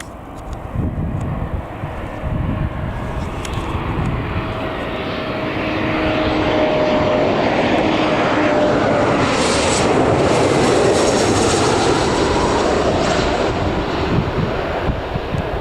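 A jet airliner at Newcastle Airport, an Air France flight touching down, roars steadily and loudly, its engine noise building and broadening through the middle before holding at a sustained rumble.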